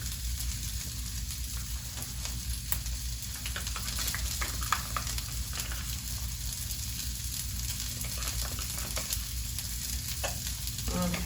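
Eggs frying in a pan in a home kitchen, a steady crackling sizzle with scattered pops and spatters running throughout, close and without talk.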